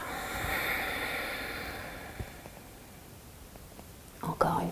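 A slow breath is exhaled during a yoga exercise, a soft airy rush that is strongest at the start and fades away, followed by a brief rustle near the end.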